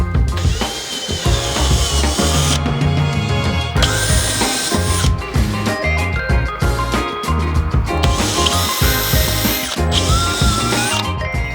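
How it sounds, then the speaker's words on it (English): Power drill pre-drilling screw holes from the back of a wooden shelf, a loud continuous whirring drone with shifting pitch and grinding bursts, close by, no talking. "I pre-drilled in from the back where I'm going to be attaching some screws to help support this whole entire shelf"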